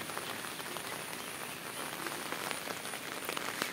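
Steady rain pours on a flooded area beside a pond and river in Tripura, a dense, even hiss of drops on water and surfaces with occasional sharper patters, continuous and fairly close throughout.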